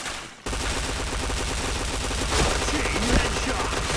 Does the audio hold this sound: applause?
no